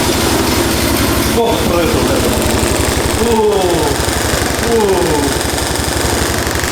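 A bored-up Honda Supra 100 motorcycle engine runs steadily close by, a loud, dense pulsing rattle throughout, with people talking over it.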